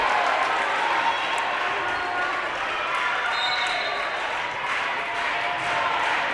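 High school volleyball crowd on its feet for Loretto against Sale Creek, a dense, loud, continuous roar of cheering and shouting in a gym, steady throughout with voices blended in.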